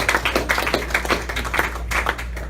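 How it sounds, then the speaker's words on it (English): Audience applause at a small gathering, a steady patter of many hands clapping together for a few seconds, moderately loud and uninterrupted. "oh, don't clap too long"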